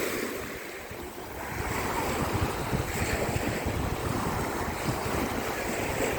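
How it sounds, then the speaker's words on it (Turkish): Sea waves wash onto the shore of a quiet beach, a steady rushing surf mixed with gusty wind noise, continuous and fairly close, with no voices. "Biraz da deniz sesiyle baş başa bırakalım."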